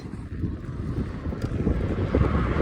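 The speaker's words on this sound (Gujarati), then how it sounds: "તમે જોઈ લો કેટલો પવન છે" Strong wind buffets the microphone in a steady low roar that swells and gusts throughout, with no voices, on a road in Gujarat between Nal Sarovar and Dwarka.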